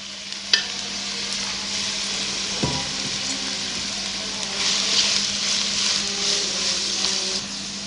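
Shredded cabbage softening in a pan for a vegetable spaghetti dish, with a steady, fairly loud sizzle and frying hiss throughout, a few faint stirring knocks near the start, and a low steady hum beneath.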